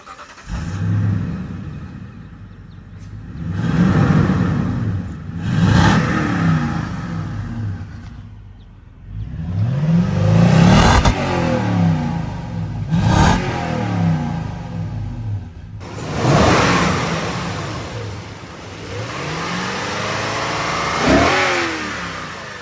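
A Toyota Sequoia's 5.7-liter iForce V8 is revved repeatedly from idle, with about five strong rises and falls spread over the stretch, heard up close and alone.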